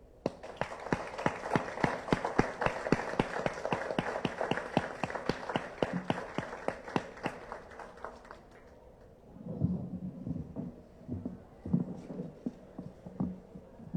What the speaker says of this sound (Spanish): Manuel, recibe este aplauso